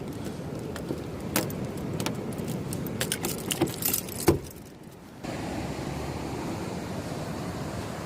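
Keys jangle in sharp metallic bursts near a car while its doors are locked by the sea, followed by a brief lull and then a steady wash of surf and wind.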